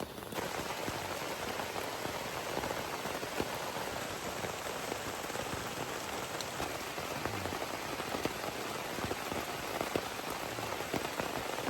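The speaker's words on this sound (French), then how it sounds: "Sous la pluie." Steady, heavy rain pours on a jungle mountainside before dawn, a dense continuous patter close by that lasts throughout with no voices.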